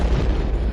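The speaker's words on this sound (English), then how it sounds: "I love that explosion button" An explosion sound effect fired from a soundboard button, a brief continuous broadband boom with heavy low rumble lasting under a second, loud and close.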